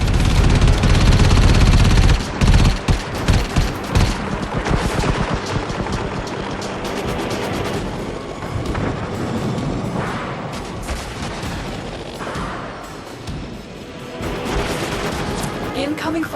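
Heavy gunfire from the Fomorian, a capital warship in the video game Warframe: loud booming volleys and rapid bursts across the whole span, strongest in the first two seconds, with rumbling blasts continuing underneath.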